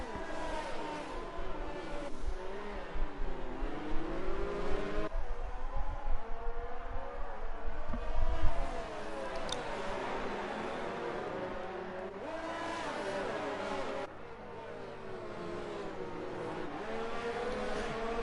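Race car engine in the F1 2019 racing game, GP2 car at the Monaco Grand Prix, over-revving hard; a continuous high, buzzing engine drone runs throughout with shifting pitch and a brief surge midway, steady and loud.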